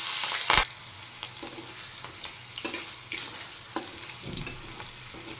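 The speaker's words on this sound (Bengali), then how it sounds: "কড়াই তেল দিয়ে দিয়েছি আর একটু এবার আমি দিয়ে দেব সামান্য কালো জিরে আর দেব কাঁচা লঙ্কা" Oil sizzles and crackles in a wok after a sharp initial burst as black cumin and green chillies go in, with light stirring scrapes and clinks throughout.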